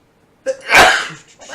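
A single loud, close sneeze bursts out after a brief quiet intake of breath.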